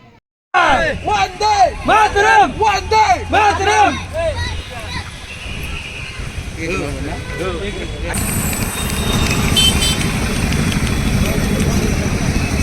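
Busy evening street in Mumbai near the Chhatrapati Shivaji Maharaj Vastu Sangrahalaya: loud crowd bustle with shouting voices and steady traffic rumble, growing into a dense, continuous roar of engines and hubbub.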